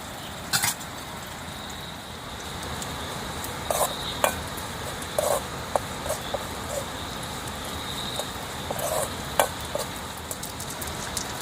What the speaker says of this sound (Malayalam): ഇഞ്ചി, ഉള്ളി, വെളുത്തുള്ളി, കറിവേപ്പില. ഇനി അത് വഴറ്റിയെടുക്കണം അല്ലേ?